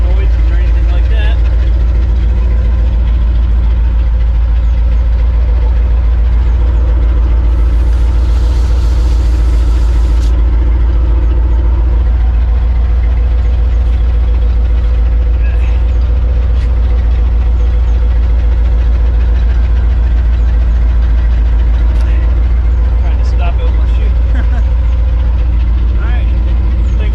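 A 1987 Chevrolet C-30 dump truck engine idles loud and steady up close, a deep continuous rumble throughout with a person speaking over it.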